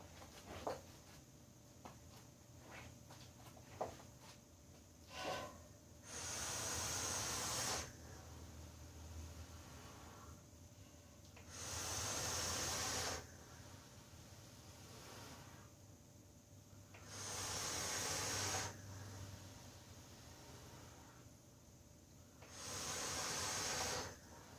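A vape device, a PWM mod, drawn on and exhaled in clouds, giving four long, soft hissing breaths spaced several seconds apart, with faint quieter pauses between.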